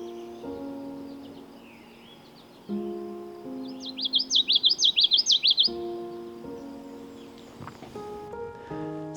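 A bird calls in a forest with a rapid trilling buzz of about a dozen notes, fairly close and clear. A blue-winged warbler is named as the caller. Steady tonal hums and soft rustling continue underneath, with no talking.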